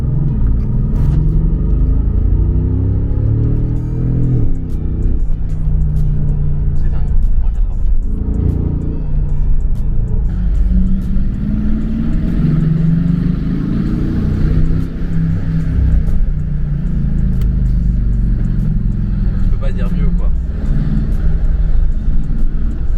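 Mercedes-Benz G63 AMG with 544 horsepower, its engine producing a loud, deep rumble with swelling revs as the vehicle drives, while someone talks over the sound for most of the stretch.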